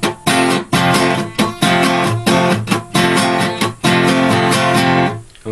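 Acoustic guitar playing a two-bar phrase, strummed chords in a bright rhythmic pattern with brief pauses between accented strokes, close and loud with no talking.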